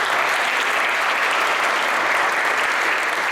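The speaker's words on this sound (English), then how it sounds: "One more round of applause for our lovely choir." An audience applauds a choir at an Ursuline Academy event, with dense, steady clapping throughout.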